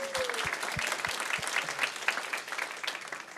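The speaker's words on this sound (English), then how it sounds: "we'll still ask you to give her a round of applause" An audience at a data conference main stage breaks into sustained applause, a dense wash of many hands clapping, with a few sharp low thumps near the start.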